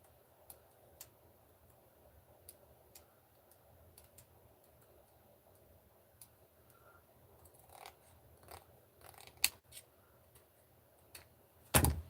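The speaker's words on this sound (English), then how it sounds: "Okay, I can at least cut this section out." Scissors snipping plastic canvas for a Frankenstein craft kit, giving sparse quiet clicks and cuts that grow busier toward the end, ending in a couple of louder snaps.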